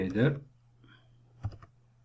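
Code being typed on a computer keyboard: a brief voice at the start, then a short, close burst of a few soft keystroke clicks.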